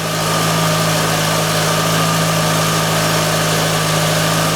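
A VW Golf engine idles high, a loud steady hum with a constant tonal drone and no variation, close by and with no talking.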